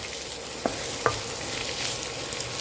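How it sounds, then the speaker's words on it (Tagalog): Onions sautéing in pork fat in a pan, a soft continuous sizzle with two sharp clicks of a utensil stirring against the pan, close and fairly quiet. "So gisahin muna natin yung sibuyas"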